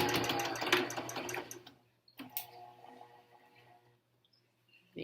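A sewing machine runs in a steady burst while back-stitching an N95 mask cover, then stops, leaving faint handling noises and a few soft clicks.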